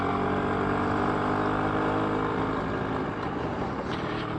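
BSA D7 Bantam motorcycle engine running steadily while being ridden, a continuous loud buzzing drone with wind rush throughout and no speech.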